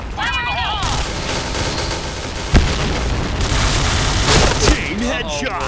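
A grenade goes off on the Sandstorm map of a tactical shooter game, a sharp loud boom landing amid rapid gunfire, whistling effects and excited shouting voices.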